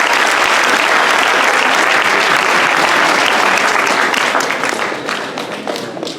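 A school assembly audience claps together in loud, dense applause that holds steady for about five seconds, then gradually thins and fades toward the end.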